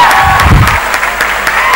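Loud applause from a large crowd greets a guest at a college tech festival, a steady wash of clapping filling the short stretch without pause.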